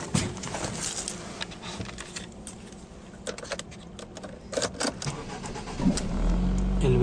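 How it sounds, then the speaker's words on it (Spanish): A 2010 Ford Focus Ambiente automatic being started, with quiet clicks and shuffling from inside the car before the engine cranks and catches near the end, then settles into a steady idle. "El vehículo enciende correctamente."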